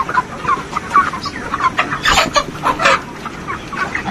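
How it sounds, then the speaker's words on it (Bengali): Broiler chickens about 43 days old cluck and chatter continuously in a poultry farm shed cooled by fans, a dense, close flock murmur with frequent sharper calls. "ফ্যানের হাওয়া খাচ্ছে মুরগি।"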